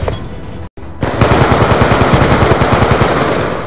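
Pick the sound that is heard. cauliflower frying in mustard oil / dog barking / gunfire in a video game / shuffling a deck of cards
gunfire in a video game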